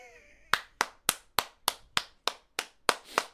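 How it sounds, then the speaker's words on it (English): One person claps their hands about ten times at a steady, slightly quickening pace, each clap sharp and close in a quiet room after a brief tonal sound fades. "that was me clapping my hands"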